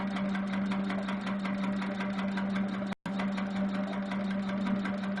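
A sewing machine running steadily while doing a small meandering quilting stitch on a quilt block, a continuous close mechanical hum and rapid needle chatter, briefly cut off for an instant midway.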